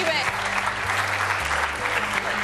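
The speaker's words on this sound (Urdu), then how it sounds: "آپ سب کی بھرپور تالیوں میں جاوید شیخ صاحب کو بلاؤں گی میں" Audience applause at a Pakistani television talk show, a dense continuous clapping that stays loud and even throughout, with a voice faintly under it.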